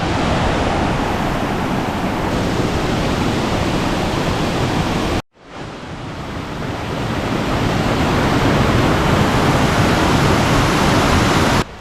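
Waterfall in Costa Rica along a hiking trail with a hanging bridge, a loud, dense roar of falling water that fills the scene, broken by a short cut midway.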